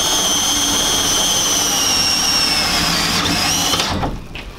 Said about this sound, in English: screwing it in now.